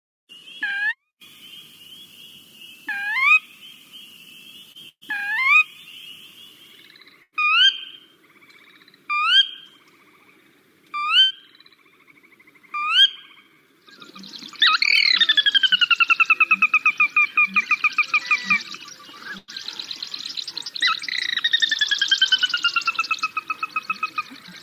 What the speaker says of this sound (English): the whinny call, which is the most commonly heard call that you'll hear